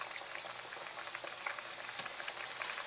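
Plantain slices frying in hot grease for twice-fried platano, a dense, steady bubbling crackle close up, running continuously without pause.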